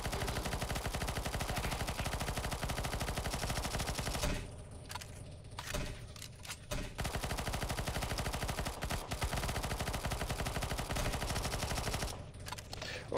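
Dense, nonstop automatic gunfire in CS:GO Zombies as players shoot at the boss on a surf map, loud and continuous with brief dips in intensity.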